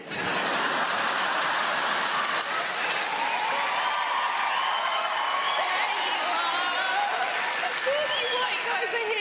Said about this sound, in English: Come on guys, cheer louder, we know how much you get paid.